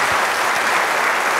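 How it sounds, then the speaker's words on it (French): An audience at a talk on ecology and transhumanism applauds, a loud, dense wash of clapping from many hands, steady and close for the whole brief moment. "Je pense qu'on peut applaudir cette intervention."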